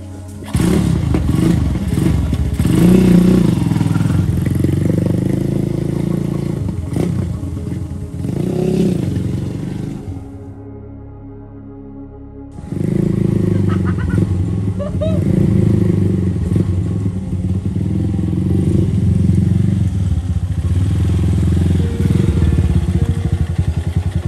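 A motorcycle engine runs steadily nearby, dropping out briefly midway before rumbling back, with a clattering, mechanical texture throughout.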